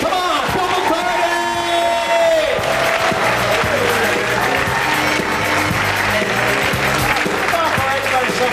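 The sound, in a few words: theater audience applauding comedian's entrance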